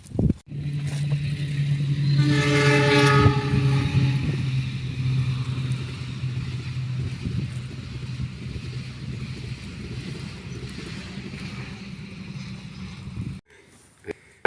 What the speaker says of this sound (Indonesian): Waduh, kayak puting beliung anginnya